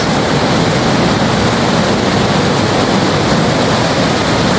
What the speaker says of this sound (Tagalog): Ang lakas, grabe. Lakas ng agos.